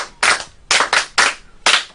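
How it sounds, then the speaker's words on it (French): Five sharp, loud claps in an uneven rhythm, each a crisp separate smack with brief silence between. "Applaudissez pour vous."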